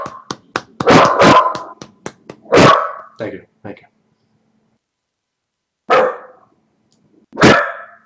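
A dog barks repeatedly in quick bursts, then a few more separated barks after a pause, loud and close, while a person speaks briefly between them.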